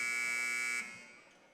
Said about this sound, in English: There's that buzzer again.